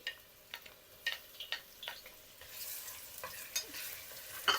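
Finely chopped onion goes into hot mustard oil, with a few soft taps and clicks first, then a quiet, steady sizzle that rises through the second half.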